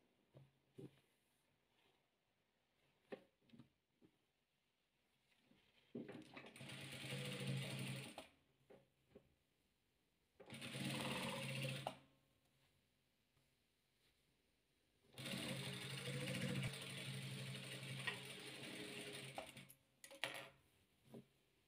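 A sewing machine stitches rows of patchwork quilt fabric in three rapid whirring runs of steady needle chatter, close and fairly loud, with quiet pauses and small handling clicks between them.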